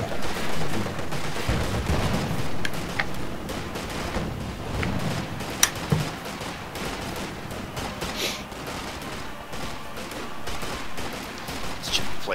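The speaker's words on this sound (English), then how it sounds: "fully entrenched with his machine guns" Machine gun and small-arms fire from entrenched positions in a Company of Heroes 2 two-versus-two Axis versus Allies match, with dense, steady battle noise and scattered sharp shots running throughout.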